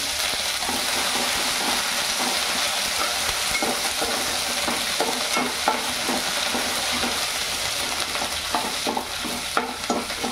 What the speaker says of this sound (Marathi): लसणाची पेस्ट, अद्रक पेस्ट आपण मिक्स करून घेते